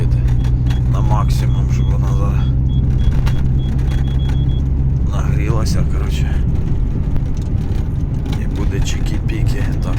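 A car engine idles steadily as it warms up, a constant low rumble that runs the whole time beneath someone talking.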